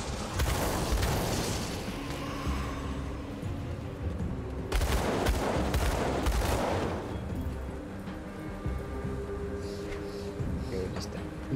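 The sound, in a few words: dual pistol gunfire in the video game Grim Dawn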